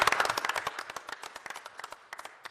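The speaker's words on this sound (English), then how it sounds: "But give round of applause in order." Applause from a small audience at a hybrid city council meeting, a few pairs of hands clapping briskly at close range for about two seconds and then thinning into scattered claps.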